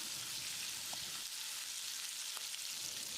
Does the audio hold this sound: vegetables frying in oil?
yes